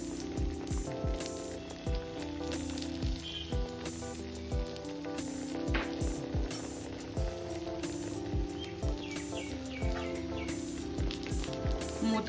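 Ragi dough fries in ghee in a pan with a steady, close sizzle and crackle, broken by irregular sharp pops and taps throughout.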